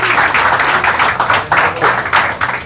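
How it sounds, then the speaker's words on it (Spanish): Applause from a bar audience at a metal bar show, loud, dense clapping filling the whole short stretch with slight swells and dips. "Oye, un aplauso."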